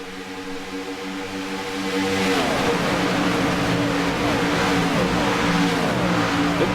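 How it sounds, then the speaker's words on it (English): A pack of race cars racing on a track, engines droning together and swelling louder as they bunch up, with overlapping pitch sweeps of multiple cars passing. "Look at this pack of cars."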